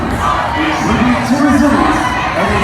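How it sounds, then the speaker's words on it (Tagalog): A loud crowd at a Philippine political gathering chants the name Duterte in rising, repeated shouts, a dense wall of voices with cheering swelling toward the middle and staying steady to the end. "ang sigaw ng taong bayan, guys, Duterte! Duterte!"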